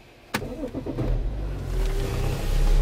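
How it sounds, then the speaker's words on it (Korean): A BMW X5 E70 started with a smart key: a sharp starter click, then the engine cranks and catches, settling into a steady, close idle that builds slightly toward the end. "시동이 걸렸습니다."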